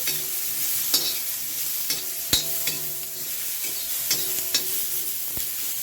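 Tomato softens in a hot pan with roasted masala and oil, throwing off a continuous close sizzle and hiss. A few sharp knocks and scrapes of a spatula against the pan break through now and then. No voices are heard.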